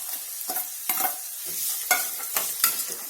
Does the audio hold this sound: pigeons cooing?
no